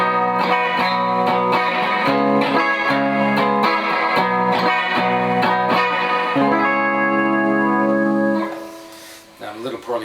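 Electric guitar with gold foil pickups in the bridge pickup position, strummed and picked with a bright, slightly distorted edge, steady chords then sustained notes, fading into a few softer plucks at the end.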